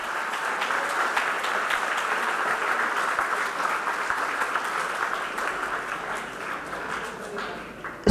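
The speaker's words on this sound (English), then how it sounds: "may we have a big round of applause for all the participants." A big round of applause for participants at a school debate competition, many hands clapping steadily for the whole stretch, dense and even, gradually easing toward the end.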